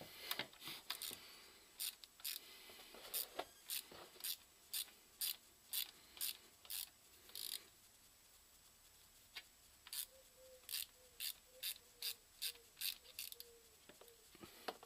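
Ratchet wrench loosening a Torx 40 bolt on the automatic gearbox (AM6/EAT6) of a Peugeot, giving a long series of sharp, evenly spaced clicks in two bursts with a short pause between, close and clear with no talking.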